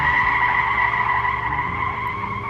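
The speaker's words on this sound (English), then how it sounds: "Let's make this car skid." A car skidding in the video game Watch Dogs 2: a steady, moderately loud tire squeal holds a sustained tone over low engine rumble for the whole stretch.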